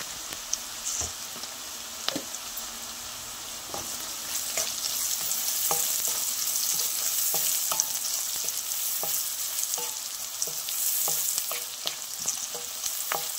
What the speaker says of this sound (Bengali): দেখুন পেঁয়াজ, লঙ্কা, রসুনটা একদম ভাজা ভাজা করে নিয়েছি